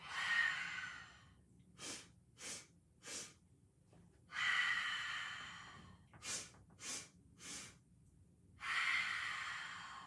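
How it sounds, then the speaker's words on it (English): Three quick sniffs in through the nose followed by one long breath out through the mouth, repeated in the same rhythm for two full rounds and starting a third, close and clear in a quiet room. "It's 3 sniffs of breath in through your nose."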